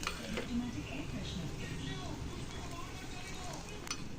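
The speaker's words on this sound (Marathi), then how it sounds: "कांदा आणि आलं मस्तपैकी छान फ्राय होऊ दिलं मी" Onion and ginger fry in a pan with a soft, continuous sizzle and occasional stirring clinks, low and close.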